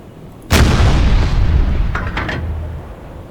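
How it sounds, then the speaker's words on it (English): A U-boat deck gun in the UBOAT game fires a high-explosive shell with one loud, deep boom that rolls off slowly. A few faint clanks follow as the rumble fades. "man the deck gun"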